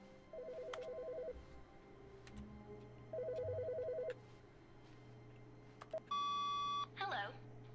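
An office telephone rings in The Stanley Parable: two short bursts of electronic trilling beeps, then a higher tonal beep pattern near the end over a low steady hum, quiet and close, with faint talk around it.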